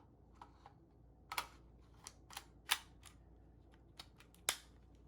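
A PepperBall TCP launcher being loaded by hand, with a projectile dropped in and a magazine slid into place: a handful of sharp, close plastic clicks and taps scattered over near silence.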